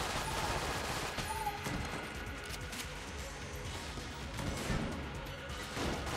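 Dense, continuous bursts of video game gunfire from Enter the Gungeon form a steady crackling barrage with occasional sharper impacts, filling the whole stretch with no pause.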